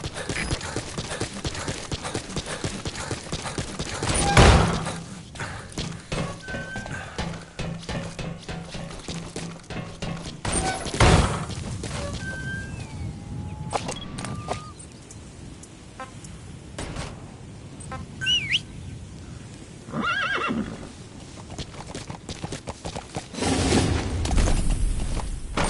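Horse hooves clip-clop in the Metal Gear Solid V video game, a steady walking rhythm across the wilderness, with several louder thumps and whooshes mixed in and no neigh standing out clearly.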